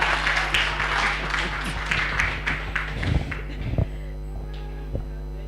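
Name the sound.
audience clapping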